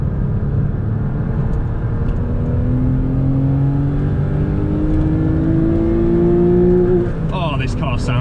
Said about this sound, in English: Oh, this car sounds awesome.